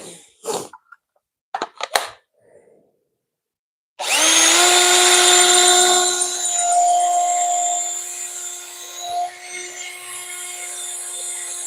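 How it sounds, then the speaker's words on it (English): A few faint knocks and clatters, then a power drill whines loudly and steadily for several seconds, its pitch sagging slightly as it bores into wood. "We'll pre-drill that other hole."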